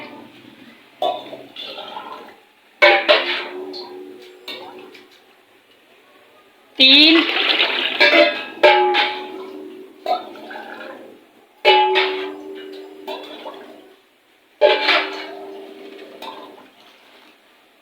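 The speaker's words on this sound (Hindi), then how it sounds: "4 डब्बे भर के मैंने इसके अंदर पानी ऐड कर दिया है।" Water is poured from a container into a cooking pot for jaggery sweet rice in four or five separate splashing pours, each fading out, with someone talking in between.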